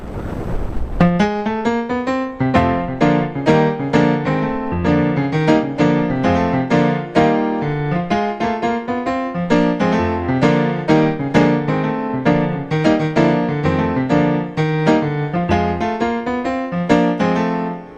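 A gospel piano lick played in a key, scooping the flat third up to the major third while the root is held as the top note. A steady, bright run of chords and fills plays alone for about eighteen seconds.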